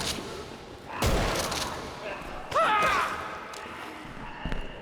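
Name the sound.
gunfire in Contagion video game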